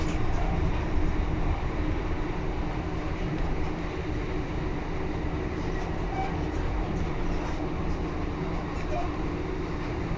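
Steady onboard rumble of an East Midlands Railway class 156 diesel unit, set 156411, running between Barnetby and Lincoln, a continuous low drone with rail noise throughout and no clear talk.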